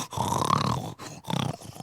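A noisy dog snorts and grunts up close in rough, throaty bursts, one long rumble followed by a shorter one after a brief pause.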